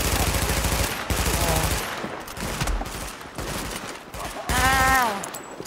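Gunfire in The Division video game rattles in rapid automatic bursts through most of the stretch, loud and dense, with a voice briefly speaking near the end.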